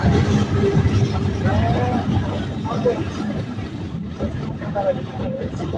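A Nakshikantha commuter train pulls out of Mawa railway station near the Padma bridge, its loud, steady rumble and rattle running continuously throughout.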